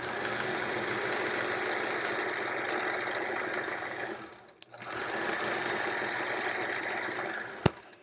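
A sewing machine stitches a Triangle Tango quilt in fast, steady runs of humming, rattling needle strokes. The sewing briefly pauses and then resumes, and one sharp click follows near the end, with no talking.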